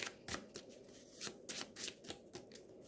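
A deck of cards for the board game Eldritch Horror is riffle-shuffled in quick repeated bursts of crisp flutters and snaps, close and clear, with a steady rhythm over about three seconds.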